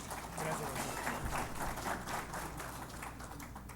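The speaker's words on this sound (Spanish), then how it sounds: "Lo recibimos con un fuerte aplauso." An audience in a Spanish-language medical lecture hall claps to welcome the speaker, a soft, even wash of many hands heard at a distance at low level.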